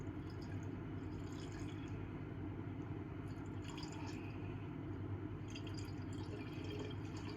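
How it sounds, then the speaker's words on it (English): Water is poured into a jar holding soap, a steady trickling, bubbling fill running low and continuous with small splashy drips popping above it at intervals, fairly quiet and without talking. "if you pour your water in too fast, it's going to make your soap foam up"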